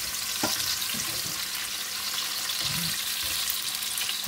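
Onion, garlic and ginger sauté in a pan for chicken tinola, giving a soft, steady sizzle broken by a few light stirring clicks.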